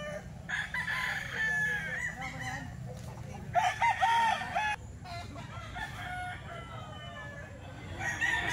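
Gamecock roosters at a chicken market in the Philippines crowing in several drawn-out calls, close and clear, with clucking and a low crowd murmur underneath.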